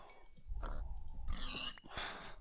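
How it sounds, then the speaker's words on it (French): Pigs in a video game grunt and squeal in a few short, close bursts over a low background rumble, with no talk. "Allez, des cochons,"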